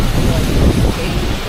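Gusty wind buffets a microphone on 34th Street in New York City during thunderstorms, a loud, steady low rumble of rushing air that fills the whole clip without a break.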